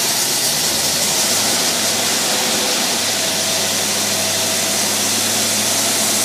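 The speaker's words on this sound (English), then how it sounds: "Hey, not a bad running carburetor." An engine on a Rochester two-barrel carburetor runs close and loud, a dense, steady rushing roar with a low hum underneath and no talking.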